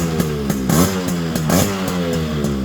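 A modified Yamaha RX100 two-stroke motorcycle engine revs repeatedly up close, its raspy, buzzing note rising and dropping in quick throttle blips.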